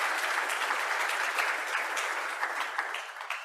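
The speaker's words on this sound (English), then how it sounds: "Let's give a round of applause." Audience at an annual plenary applauds the board, steady broadband clapping from a large crowd that holds evenly for several seconds without speech.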